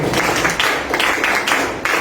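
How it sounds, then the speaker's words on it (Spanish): A conference audience applauds a speaker being introduced, a steady dense patter of many hands clapping, loud and close, continuing throughout without speech. "Un aplauso para Luis."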